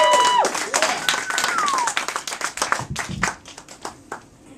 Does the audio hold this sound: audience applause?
yes